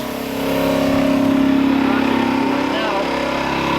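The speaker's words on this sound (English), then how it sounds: "To let the compressor refill." A garage air compressor runs steadily as it refills during sprinkler system winterizing, a loud continuous motor drone with a tonal hum that swells up in the first half-second and then holds.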